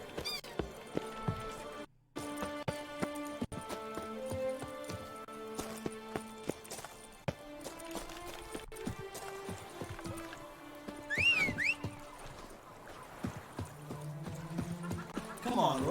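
Horse hooves clopping in The Witcher 3, a steady rhythmic gallop over a road, moderately near and faint, with occasional squeaks and music layered beneath, while someone talks over it.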